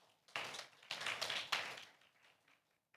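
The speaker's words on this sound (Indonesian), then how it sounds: "Yang percaya beri tepuk tangan yang meriah buat Raja kita." A church congregation claps during a worship service, in three short bursts of fairly soft, close clapping that swell and fade, leaving a quiet gap at the end.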